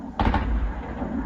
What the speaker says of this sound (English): Hear the shockwave there.